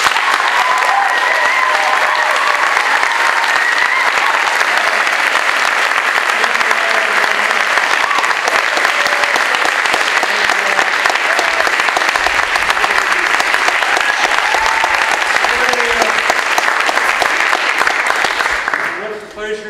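Sustained audience applause welcoming lecture speaker Bill McKibben to a climate change talk, a loud, dense wash of clapping from a full hall that holds steady for nearly twenty seconds before tapering off at the end.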